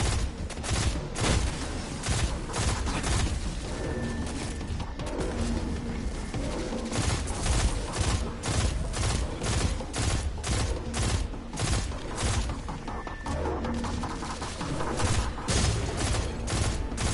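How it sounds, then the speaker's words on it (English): Sustained rapid weapon fire in Destiny 2, a dense stream of sharp shots repeating at a steady fast rhythm for a long stretch, with occasional heavier booms and impacts, loud and up close. "This weapon feels like a slightly less accurate version of the Hawksaw."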